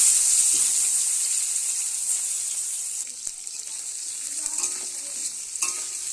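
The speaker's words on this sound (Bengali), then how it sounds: "আগে বেগুনগুলো ভেজে নেব এখানে মাছের তেলে বেগুন দিয়ে দেব" Pieces of eggplant frying in hot oil left from frying fish, a steady loud sizzle with occasional clicks and scrapes of a utensil in the pan.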